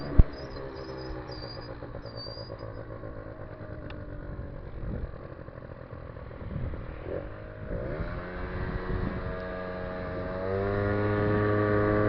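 A moped engine runs steadily and louder than it used to, a continuous droning hum with harmonic whine that rises slightly in pitch and level toward the end, close by with no talk.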